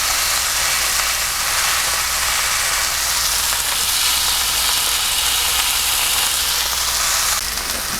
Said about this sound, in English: the steak's been on for about 30 seconds, 45 seconds, and it's not sizzling as loud or as fast